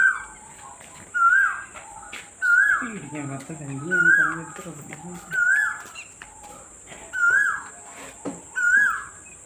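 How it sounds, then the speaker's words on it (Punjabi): A koel calls repeatedly in a rising, evenly spaced series of clear whistled notes, with a brief low voice or animal sound partway through. "ਅਰੇ ਕੋਇਲ ਬੋਲਦੀ ਸੁਣੋ"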